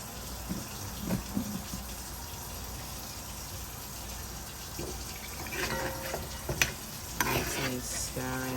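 Dungeness crab in curry sauce is stirred in a pan with seasonings, soft scraping and liquid stirring under a low sizzle, with a few louder clinks and bursts of utensil contact toward the end.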